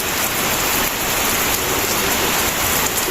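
Steady rain pours down during the rainy season, a dense, even hiss of drops on surfaces filling the whole moment without pause or voices.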